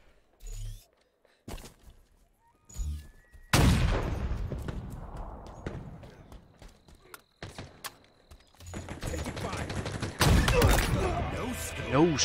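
Sniper rifle shots in Halo Infinite gameplay: several sharp, separated blasts, the strongest booming loudly around the middle and again near the end, with game effects and a short voice line between them.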